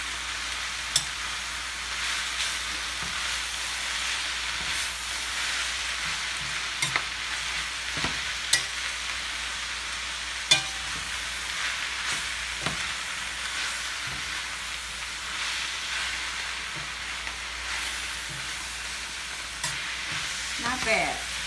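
Kale sautéing in a pan over medium heat gives a steady, soft sizzle with occasional light stirring clicks, continuous and fairly quiet throughout with no talking.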